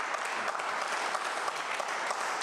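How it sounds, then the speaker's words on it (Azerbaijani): A dense, steady wash of clapping from a theatre audience, even and unbroken for a few seconds, with no voices standing out above it. "Sezar, bilmirsən ki, mən sevmirəm bu qədər alqışı."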